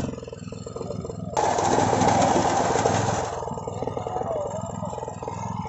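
A small power weeder engine chugs steadily in a field and grows louder and rougher as the machine is turned, then settles back to a steady running rumble, close by.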